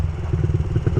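A stunt motorcycle engine rumbles close by in a short burst, its low throbbing note pulsing unevenly as the rider lets off the throttle.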